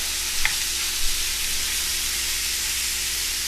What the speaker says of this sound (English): while these onions are cooking